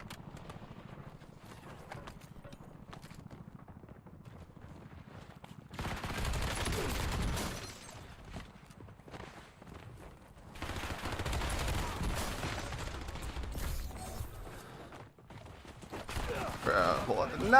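Bursts of automatic gunfire in a Call of Duty battle royale match on Rebirth Island, coming in two louder stretches of rapid shots at middling distance.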